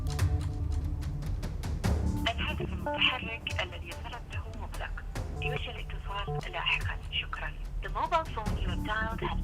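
A phone call is placed in a Malayalam comedy film scene, with short ringing or tone-like electronic sounds repeating under and between overlapping excited voices.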